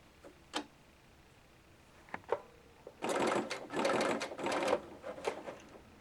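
A Bernina L850 serger stitches along a fabric edge in a steady, close mechanical whir for about two seconds, with a few light clicks before and after.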